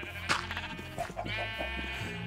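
Sheep in the Minecraft video game bleat in a quick series of nasal calls, close and fairly loud, with several overlapping bleats and no talking.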